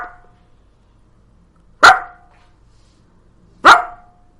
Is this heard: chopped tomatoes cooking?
no